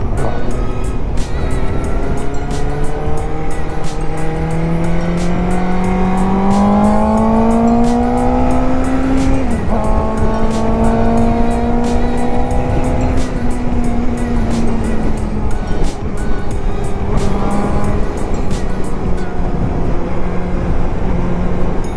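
A car engine roars loudly nearby, revving upward in pitch, dropping at a gear change, then climbing again through the gears.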